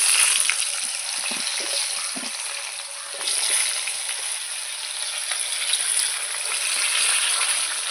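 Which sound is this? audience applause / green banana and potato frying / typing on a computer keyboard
green banana and potato frying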